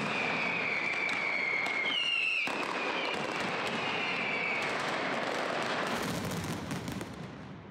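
Mascletà firecrackers of perchlorate and aluminium packed in cardboard explode at the Valencia Fallas festival in a dense, continuous barrage of loud cracks and bangs, with a whistling streak early on and a heavy rumbling finish.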